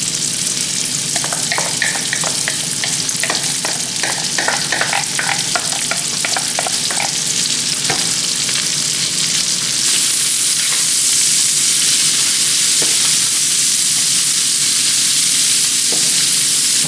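Smoked calabresa sausage and onion fry in a pan, giving a continuous dense sizzle with scattered crackles and spoon-stirring scrapes in the first half, then a louder, brighter hiss as the onion goes in.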